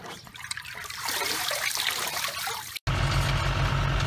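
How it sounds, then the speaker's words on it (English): Tap water runs steadily while Adriana bibb lettuce is washed and crisped on a farm, a close trickling splash that cuts out briefly near the end before a louder, rougher rush of flow resumes. "Cleaning the lettuce and crisping it up for the Westover market"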